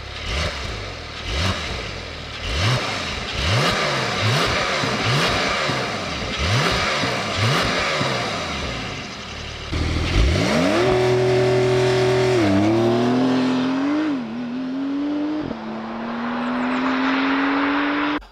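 A Porsche 992 accelerates hard and loud with no talk: repeated rising engine pulls through quick upshifts, then one long sustained climb with a shift near the end and the revs holding high.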